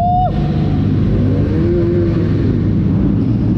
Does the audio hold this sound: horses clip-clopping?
no